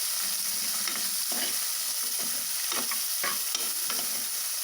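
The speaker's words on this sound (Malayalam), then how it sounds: "ഇത് നന്നായി ഇളക്കി ഒന്ന് വഴറ്റിയെടുക്കണം" Chopped onion and crushed garlic stir-frying in a pan sizzle steadily up close, broken by repeated scraping strokes of a spoon stirring through them.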